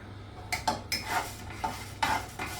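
Urad dal tipped into a pan for curry leaf chutney, giving close, sharp clattering ticks and scrapes against the metal in several separate bursts.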